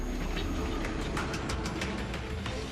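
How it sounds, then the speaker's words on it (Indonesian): Train moving along a railway line between Kiaracondong and Cikudapateuh in Bandung, a steady rumbling roar with faint clattering, continuous over a few seconds. "kereta api yang sedang melaju di jalur perlintasan"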